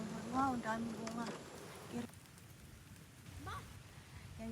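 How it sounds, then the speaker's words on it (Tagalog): Steady rain patters outdoors as a broad hiss, with a voice talking over it at the start and briefly again near the end. "ulan na guys"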